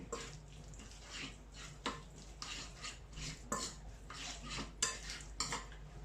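A spoon stirs olive oil marinade for a fish tagine in a bowl, giving soft scraping and clinking strokes at an irregular pace, close and fairly quiet, with no talking.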